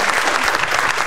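Steady audience applause fills the whole moment, dense and continuous clapping from a studio crowd at a televised reconciliation show, loud and close with no pauses.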